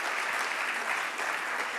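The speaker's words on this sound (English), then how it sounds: "Everyone give Steve a round of applause." Dense, steady applause from a large audience at a mayors' conference, a continuous wash of many hands clapping at even loudness throughout.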